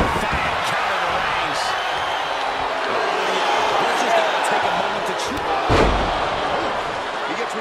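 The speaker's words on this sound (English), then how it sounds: "Shot after shot, then slamming their face down." Crowd noise fills a WWE 2K23 match, with a heavy thud as a wrestler slams an opponent's face into the mat near the end. A commentator talks over the arena roar.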